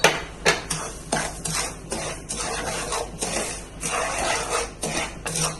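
Semolina is roasted in a pan for mango rava kesari, with a spoon scraping and clinking against the pan in quick, irregular strokes, close and moderately loud without speech.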